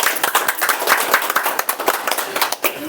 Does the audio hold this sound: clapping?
yes